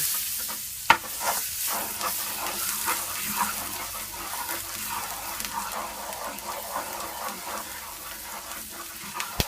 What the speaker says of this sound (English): after your butter has brown, just wait for your butter to be brown. Then you can add your ginger.